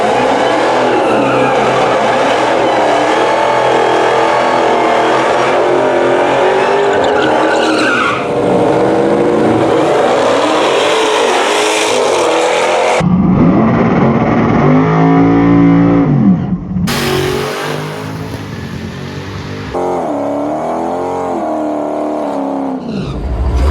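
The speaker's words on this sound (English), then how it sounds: "we have a Demon170 out here tonight" A Dodge Demon 170 races a quarter mile at night, with loud close engine roar, tire squeal and skidding, then revving that rises and falls over a long run, with no talk.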